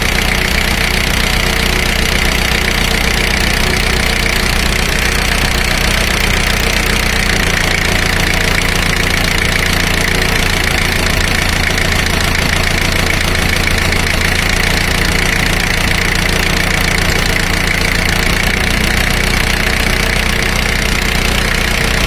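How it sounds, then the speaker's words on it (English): A car engine idles loudly and continuously during a cylinder power balance test, with the high pressure line to cylinder four disconnected; the idle note drops and roughens partway through as the RPM falls. "Now notice the RPM drop when I disconnect high pressure line to cylinder number 4."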